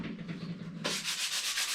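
A corner of a custom air-ride switch panel is sanded by hand in quick, close rasping strokes, the scraping growing brighter and more rhythmic partway through.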